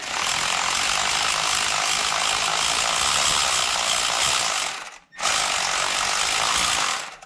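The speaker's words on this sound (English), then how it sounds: "now I've got an electric ratchet" Electric ratchet spinning a spark plug out of a 991.1 Porsche 911 engine, a loud continuous buzzing whir that runs steadily, cuts out briefly near the end, then resumes.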